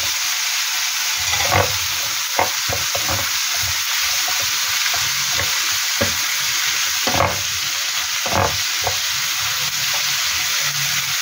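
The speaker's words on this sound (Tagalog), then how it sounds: "Kasunod na po natin igisa ang ating repolyo." Cabbage sautés for ginisang sotanghon in a pan, giving a steady loud sizzle with intermittent scraping and stirring knocks from a utensil against the pan.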